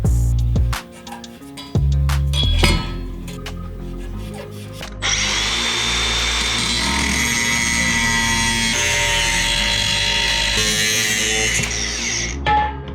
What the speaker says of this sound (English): Because I'm cutting with an angle grinder, I'll always use a square.